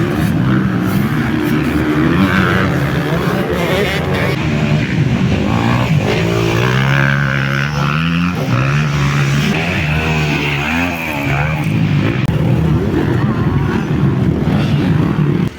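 Motocross motorcycles on practice laps around a dirt track at St Barthélémy de Vals, a continuous loud engine roar with rising and falling revs throughout.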